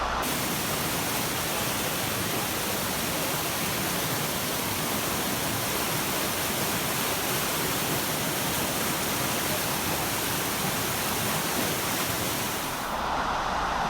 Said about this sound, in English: There's a surge of water.